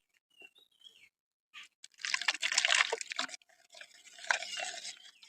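Water poured into a thin brinjal batter in a kitchen: soft liquid splashing and stirring sloshes in bursts after a few quiet clinks, close and fairly faint.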